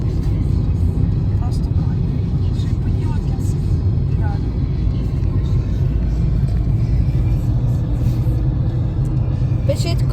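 A steady, loud low rumble of a car on the road home from Makovytsia fills the clip without a break, with voices faintly present in the background.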